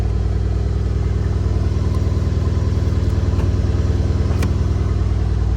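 A Mercedes-Benz C63 AMG engine runs steadily at a loud, close idle with a deep, even burble, and no one talks over it.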